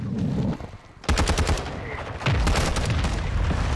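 Rapid, loud gunfire bursts from a shotgun and other weapons in Call of Duty 6v6 multiplayer, dense overlapping shots with a quieter gap before heavier volleys resume.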